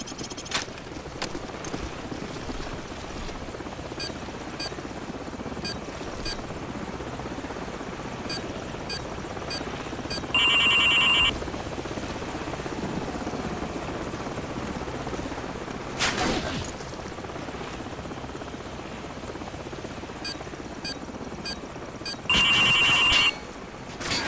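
A helicopter in the Call of Duty 4 video game drones continuously through the whole stretch, a steady rotor hum under battle sounds, with brief high electronic beeping tones breaking in twice.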